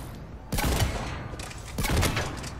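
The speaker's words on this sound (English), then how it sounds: "Wow, those are some bad shots." Mass Effect 3 Omega DLC gunfire: two loud, close bursts of rapid shots, the second arriving about a second after the first, over a low background hum of combat.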